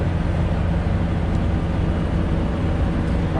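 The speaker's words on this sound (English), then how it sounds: "We've got a truck idling over here" A truck idles nearby during a pre-trip vehicle inspection, a steady low rumbling drone that stays constant and fairly loud with no speech over it.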